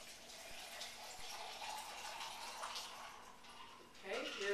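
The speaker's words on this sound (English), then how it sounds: "we're going to put some water in here" Tap water runs into a shaker cup for a nutritional cleansing drink, a steady soft gush lasting several seconds, faint and close, ending with a brief louder splash.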